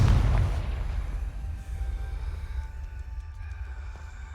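A Confringo blasting spell in Hogwarts Legacy sets off a loud, close explosion at the start, with a booming low rumble that decays over several seconds beneath faint game music.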